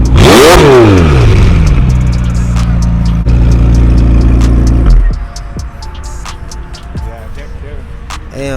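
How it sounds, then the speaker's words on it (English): A McLaren 720S engine roars in a loud close rev that climbs and falls, holds at a heavy idle-like growl, then drops away to quieter clatter and ambient noise with voices nearby. "go and rev it, man"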